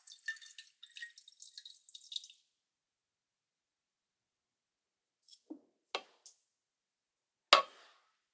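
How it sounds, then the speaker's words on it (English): Almost black bromine liquid drips from a separatory funnel into a smaller separatory funnel, first a quick patter of small drops, then silence, then a few isolated, separate drips. "The lower, almost black bromine layer was then drained directly into a smaller separatory funnel."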